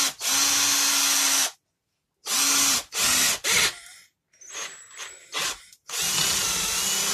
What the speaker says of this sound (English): so I'll drill it into the side like this